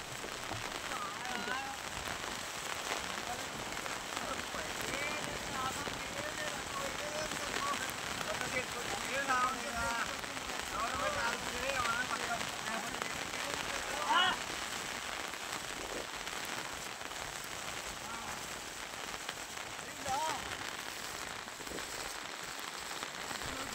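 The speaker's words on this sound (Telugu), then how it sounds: "వలిగొండ మండలం గోపరాజుపల్లిలో 3 రోజులుగా నాన్ స్టాప్ గా వర్షం దంచికొడుతోంది" Heavy nonstop cyclone rain pouring down in Gopparajupalli, Valigonda mandal, Yadadri Bhuvanagiri district, during Cyclone Montha: a dense, steady patter of rain on surfaces lasting throughout, with voices speaking faintly underneath.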